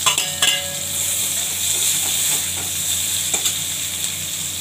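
Nigella seeds (kalo jira) hit hot oil in a frying pan along with green chillies and sizzle loudly and steadily up close, with a few sharp clinks of a spoon against the pan near the start.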